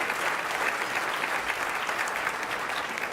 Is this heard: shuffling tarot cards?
no